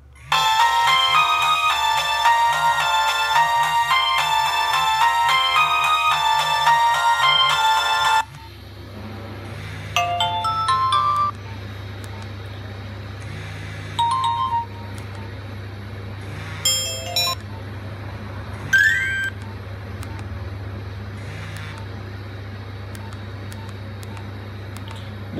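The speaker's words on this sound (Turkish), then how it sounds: "Zil sesleri seç bir bakalım." A Nokia 1600 mobile phone plays a polyphonic ringtone loudly, then several short preview tones and beeps start and stop as different ringtones are selected in turn, with steady low background hum.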